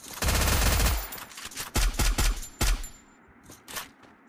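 Video game gunfire crackles in a long automatic burst, then several separate shots and short volleys spaced out across the seconds, loud and close with no speech.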